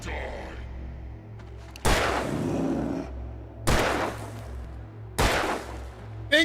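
Three loud gunshots in the video game Alan Wake Remastered, spaced roughly two seconds apart, each a sharp blast with a ringing tail over a low game ambience.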